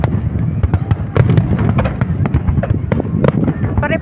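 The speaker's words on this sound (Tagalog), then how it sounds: "Ito yung area na may fireworks din dito." New Year fireworks over the Busaytin area of Bahrain crack and boom in a dense, continuous volley of loud bursts and pops, with people talking faintly underneath.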